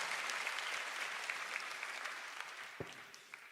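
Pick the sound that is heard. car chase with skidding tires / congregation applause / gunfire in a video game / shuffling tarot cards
congregation applause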